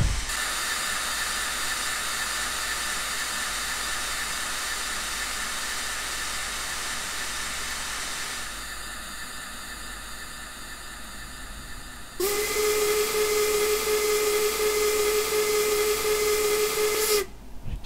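Steam locomotive in Railworks 3 train simulator, loud steady hissing of steam that thins out midway before a long, bright steam whistle blast sounds for several seconds and then cuts off.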